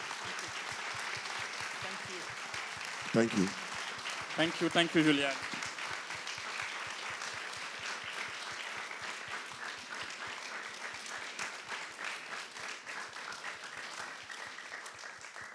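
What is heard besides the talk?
audience applause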